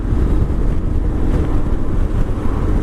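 A 2022 Honda X-ADV scooter ridden on the road in manual DCT mode gives a loud, steady roar of wind buffeting against the microphone, masking most engine sound.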